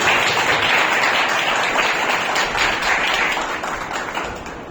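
An audience applauds at an award ceremony, a broad wash of many hands clapping together, loud at first and then slowly thinning and fading toward the end.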